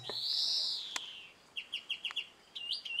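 A small bird sings from a walnut tree in the evening, giving a long sweeping whistle followed by a quick series of sharp, evenly spaced chirps, clear and fairly close against quiet surroundings.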